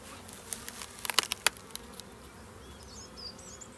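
Honey bees buzz around an open hive during an April inspection in cool weather, a steady soft hum with a few sharper close passes of individual bees near the start and faint chirps later.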